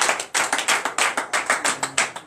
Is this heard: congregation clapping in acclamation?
yes